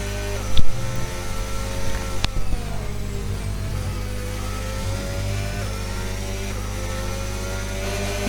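An F1 car on a qualifying lap in the F1 25 racing game, its engine holding a loud, continuous high-revving drone with rising and falling pitch through gear changes, plus a couple of sharp clicks early on.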